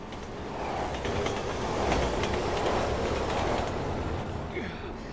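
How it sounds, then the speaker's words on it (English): A train passes in the video game Resident Evil 6, a steady rumble with clattering wheels and faint squeals that swells and then slowly fades. "Train's coming."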